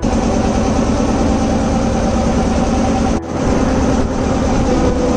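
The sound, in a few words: boat engine in the Sundarbans mangrove forest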